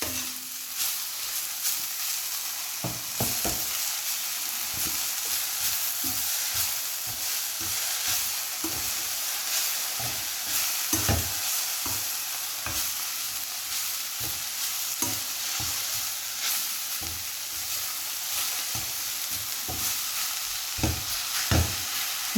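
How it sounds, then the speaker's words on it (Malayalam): Punarnava (thazhuthama) leaves being stirred in a hot pan for a thoran, giving a constant sizzle with a steady run of close scraping and tapping strokes, each stroke a sharp knock, going on for the whole stretch without any voice. "തെഴുതാമയും ഇലയും കൂടി ഇട്ട് കൊടുത്തൊന്ന് നല്ലതുപോലെ ഇളക്കി കൊടുക്കുക"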